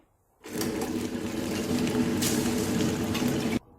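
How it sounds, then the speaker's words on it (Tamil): A wet grinder churning soaked rice into coarse batter for Kanchipuram idli, starting abruptly and running as a steady loud whirring drone with a wet swishing texture for about three seconds before cutting off. "இப்போ அரிசி சேர்த்து அரைக்கிறேன்"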